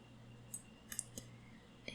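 Computer mouse clicks while playing a cozy organizing game, a few soft, sparse, close clicks over a quiet steady hum.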